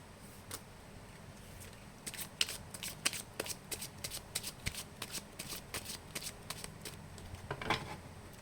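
Tarot cards shuffled by hand close by, a quick run of crisp riffling snaps that grows busier and ends in a final flurry.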